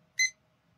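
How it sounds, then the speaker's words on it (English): A kitchen-style timer gives a single short, clear electronic beep as it is started, close and alone against a quiet room hum. "I'm going to start my timer"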